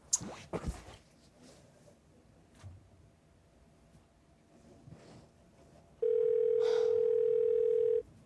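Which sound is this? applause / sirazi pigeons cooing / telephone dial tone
telephone dial tone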